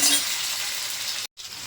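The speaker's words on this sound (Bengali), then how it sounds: "সাথে আলুটা দেবো, আলুটা দিয়ে ভাজা করবো" Potatoes fry in a pan with onion, tomato and garlic, giving a steady, close hiss of sizzling oil that cuts out abruptly for a moment near the end.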